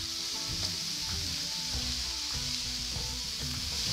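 Shallots and celery sizzling steadily in a pan for mushroom stuffing, a constant close frying hiss with occasional soft stirring clatter.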